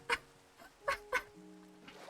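Quacking from a duck in a Minecraft-style survival game: three short, sharp quacks in quick succession with faint game ambience and a low tone underneath, no talk.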